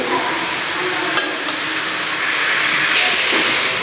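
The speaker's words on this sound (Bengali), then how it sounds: "এখন ভালোভাবে মশলাটা কষিয়ে নিতে হবে" Spice paste for a Bangladeshi fish curry being stir-fried in a pan, a steady broadband sizzle with a few sharp scrapes of the spoon, loud and close, no talking.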